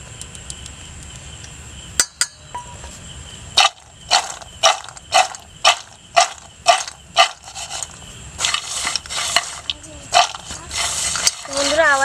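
Crispy fried masala kaju made from flour being tossed in spices in a bowl, a run of about a dozen sharp rhythmic rattling shakes, louder toward the end, with a quiet voice at times.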